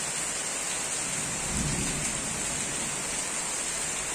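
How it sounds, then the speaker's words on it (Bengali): A night thunderstorm with heavy rain pours down in a steady, loud hiss, while a low roll of thunder swells briefly in the middle and fades. "বিদ্যুৎ চমকাচ্ছে, আর জোর বৃষ্টি হচ্ছে।"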